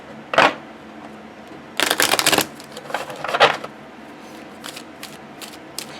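Oracle cards riffle shuffled by hand, three quick crisp ruffling bursts, the middle one longest, with soft card taps between, close and alone.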